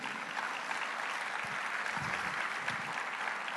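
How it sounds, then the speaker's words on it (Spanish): Church congregation applauding after a sermon line, a steady, dense wash of clapping from many hands that holds evenly throughout without a break. "Un aplauso a su nombre."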